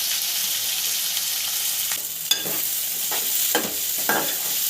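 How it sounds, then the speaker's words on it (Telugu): Finely chopped onion and cumin fry in oil with a continuous close sizzle, a few sharp stirring clinks and scrapes breaking through the hiss. "ఒక చెంచా జీలకర్ర వేస్తున్నా సన్నగా తరిగిన ఉల్లిగడ్డ మంచిగా వేగులోనే"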